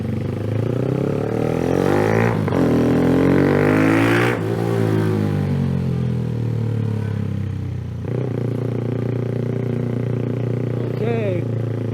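A modified Honda CBR motorcycle engine revs hard up through the gears, with rising pitch, sharp shift drops and a throttle blip, loud and close as the bike is ridden, and a rider's voice briefly over it.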